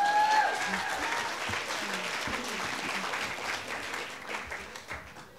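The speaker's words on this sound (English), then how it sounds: "Let's hear it for Kimi Marin, everybody." An audience applauds a performer, steady dense clapping and cheering throughout from a crowd at a live broadcast show, with a brief whistle-like tone at the start.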